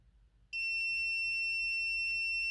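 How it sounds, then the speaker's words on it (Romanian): A Sonoff Zigbee Bridge Pro sounds its alarm, a steady, piercing electronic piezo tone that switches on abruptly after a brief quiet moment and holds loud and continuous, with no talking. "Partea interesantă e că piuitul vine chiar din acest bridge."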